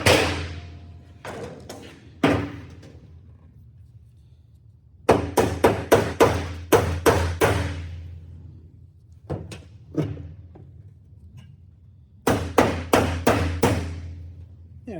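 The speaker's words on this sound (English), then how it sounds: "we gotta hammer this down a little bit" A sheet metal roof cap is hammered down with hard, ringing metallic blows that come in clusters of quick strikes separated by pauses, each hit sharp and close with a short ringing decay.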